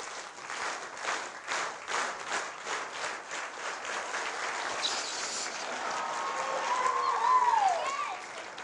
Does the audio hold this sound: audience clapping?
yes